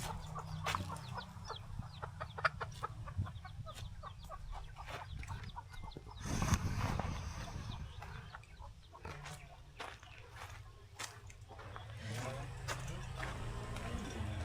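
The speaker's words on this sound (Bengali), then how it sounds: "এই যে দেখুন মুরগি" Chickens clucking and chirping intermittently in a rural Thai village, over a busy outdoor background, with voices talking nearby and a louder bump in the middle.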